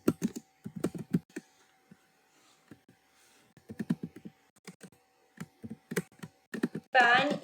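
Computer keyboard keys are pressed in quick bursts of clicks with pauses between them, fairly close and clear, and a brief louder clatter comes at the end.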